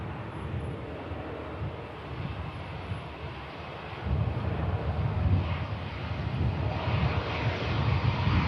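An aircraft landing at Alicante airport, a broad, windy jet roar heard from a distance that grows louder and fuller halfway through, with wind buffeting the microphone.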